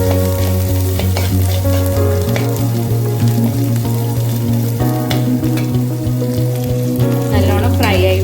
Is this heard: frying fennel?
yes